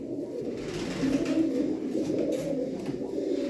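Female tumbler pigeons cooing steadily and close by, a continuous low rolling coo running through the whole stretch with no voices over it.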